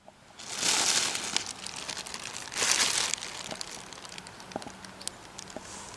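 Freshly harvested potatoes go into a plastic bag with two loud bursts of crinkling and rustling, followed by softer crackles and light taps as the bag settles, close by.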